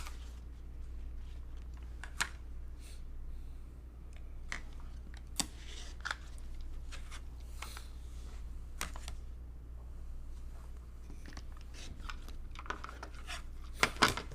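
Rotary cutter slicing quilting fabric along a ruler for 2 by 5 inch rectangle pieces: scattered short clicks and scrapes, close and fairly quiet, over a steady low hum with no talk.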